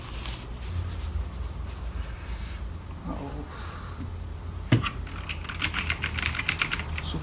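Keys clack in quick bursts on a low-budget mechanical keyboard, a fast run of crisp close taps after some lighter tapping, with someone speaking over the typing.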